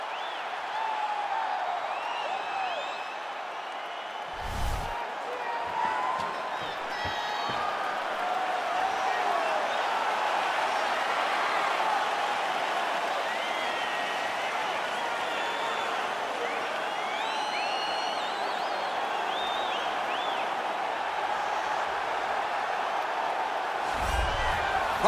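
A sold-out arena crowd murmurs and cheers steadily in EA Sports UFC 4 before a flyweight championship fight, a constant broad roar with occasional whoops and a couple of sharper bursts.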